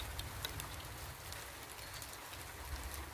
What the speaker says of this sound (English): it's between snow and hail